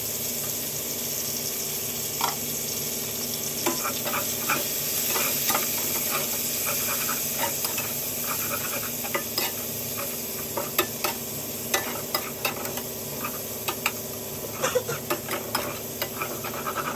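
Tomatoes and onions frying in a pan for a paneer dish, a soft continuous sizzle with scattered clicks and scrapes of stirring growing busier toward the end, fairly quiet and close, with no voices.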